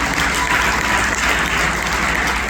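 Congregation applauding during a church worship service, a dense, steady wash of clapping that holds at an even level throughout.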